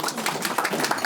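Applause from the audience at a celebration of life gathering, with dense rapid clapping from many hands sustained evenly throughout a brief moment.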